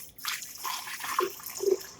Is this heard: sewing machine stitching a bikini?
no